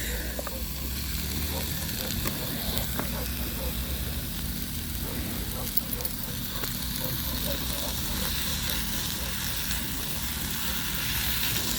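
Beef and broccoli sizzle and fry steadily in a cast iron pan, a continuous close hiss with occasional stirring scrapes throughout.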